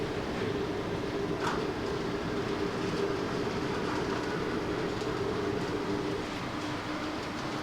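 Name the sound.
model train running over crossing track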